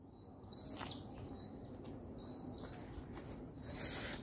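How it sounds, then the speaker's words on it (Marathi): Peacocks calling near a water tank on a trek to hill caves, a few faint distant high-pitched calls repeating over soft outdoor background noise. "मोरांचे आवाज मस्त आहेत दादा"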